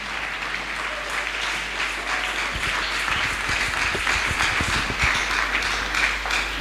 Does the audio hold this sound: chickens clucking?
no